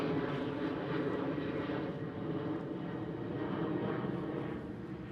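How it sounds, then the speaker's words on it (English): A German Airways Embraer E190, formerly with British Airways CityFlyer, gives off a steady, dense jet engine roar, fairly close and even in level, fading slightly at the end. "It's German Airways with a former British Airways City Flyer, E190."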